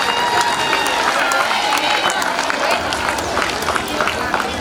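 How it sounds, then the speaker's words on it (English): Sustained applause from a crowd of schoolchildren greeting a guest onto the dais at a school intramural sports meet, dense steady clapping mixed with crowd voices and chatter throughout. "Children, please welcome her onto the dais with your huge round of applause."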